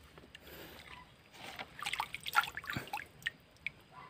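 Water drains and drips from a small-mesh basket used to scoop azolla from a pond, with a quiet trickle and scattered splashy drips building in the middle, close and soft without talking.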